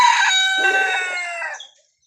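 A rooster crows once from a coop, a loud, close call lasting under two seconds that trails off into silence.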